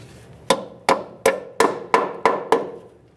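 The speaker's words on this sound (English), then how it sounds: "It's common to have to tap it in with a hammer." Seven sharp metallic hammer taps on a front brake line clip of a 2009-2014 Nissan Maxima land in a steady, even rhythm, each ringing briefly before the next, close and clear.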